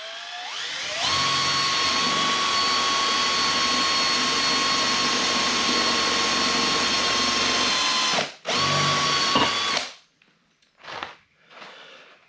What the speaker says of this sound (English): just going to push down with my thumb as I drill the hole